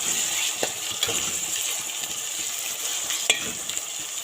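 Onions, green chillies and tomatoes sauté in a pan for a mutton chops gravy, giving a steady broadband sizzle with a few sharp spoon scrapes and clicks against the metal, close and alone without talk.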